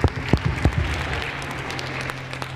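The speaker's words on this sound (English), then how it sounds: "Go ahead, clap it up." Church congregation at Oakwood University Church claps during a live comedy set: a few sharp, close claps up front, then a softer scattered patter that fades under room noise.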